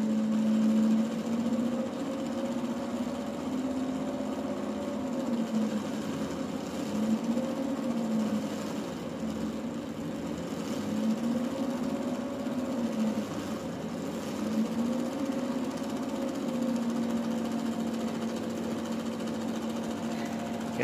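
A homemade brushless DC motor driven by a MOSFET controller on a 9-volt supply runs steadily, a moderate humming whine whose pitch slowly rises and falls in repeating waves.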